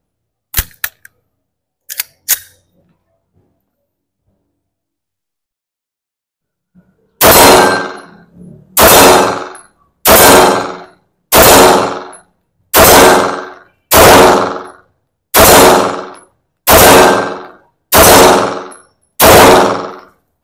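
A ZEV Technologies OZ9 pistol fires about nine sharp, loud shots at a steady pace at a steel plate 18 meters away, after a few light handling clicks and a pause.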